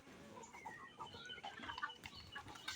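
Soft, quiet clucking from a domestic desi chicken comes in short irregular bursts at close range, with no talk over it.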